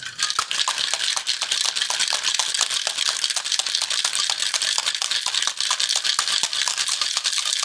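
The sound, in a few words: cocktail shaker with ice being shaken for a whiskey sour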